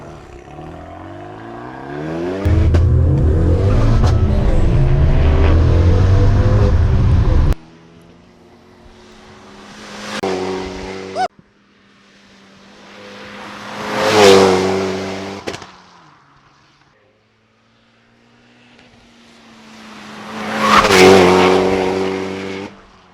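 A Renault Clio 197 Cup or Megane 250 Cup hot hatch engine roars at full throttle through repeated hard accelerations, each rising to a loud peak and easing off, with a loud sustained stretch early on.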